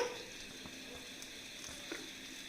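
Dosa fries in oil on a flat pan, a faint, steady sizzle with soft crackles and small pops running throughout, close and alone.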